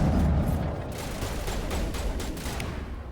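Rapid assault rifle fire from an overclocked weapon in the video game Mass Effect, a dense fusillade of sustained bursts that stays loud and close throughout.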